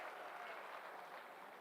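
Applause from a graduation-day audience for the last-ranked graduate, a steady dense clapping wash from a large crowd, moderately distant and sustained throughout without a break.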